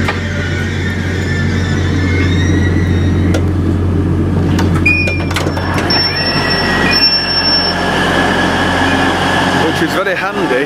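A train pulling into Doncaster station at platform 4, with a steady low rumble of wheels and carriage, a few high squeals and hisses from the brakes, and talk continuing over the noise.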